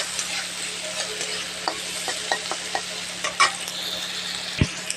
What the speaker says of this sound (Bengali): কাঁকড়া ভাজা তেল দিয়ে পেঁয়াজটা দেবো, পেঁয়াজটাকে দিয়ে দিলাম